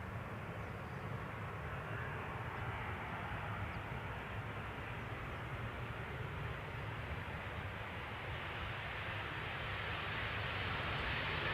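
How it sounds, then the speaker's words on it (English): A Transavia Boeing 737-700 arriving at Schiphol's Polderbaan produces a steady, broad jet roar that holds constant and swells slightly toward the end, with no talking. "Transavia arriving from Palma de Mallorca. Flight 5624, 737-700."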